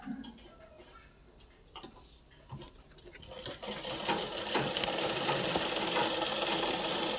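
A sewing machine stitches a long frock, first in short ticking runs, then in a loud continuous mechanical whir. Faint speech sits underneath.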